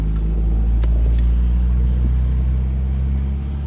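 A car engine runs on vape juice in place of engine oil, a loud, close, steady idling rumble with a faint rough pulsing throughout.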